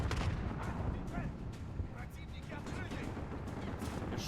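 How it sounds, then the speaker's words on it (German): Gunfire rattles through a Call of Duty: Modern Warfare (2019) campaign battle on PS4, dense bursts and artillery-like booms packed continuously over a heavy low rumble, with a voice briefly heard among the din. "Schießt doch irgendwo einer."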